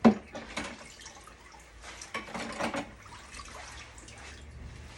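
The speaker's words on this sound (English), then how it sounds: "Now I'm going to the intermediate rinsing to rinse this instrument one more time." Water runs and drips while a dental instrument is rinsed in a home kitchen, a soft, uneven trickle with light splashes that builds in short bursts and continues steadily throughout.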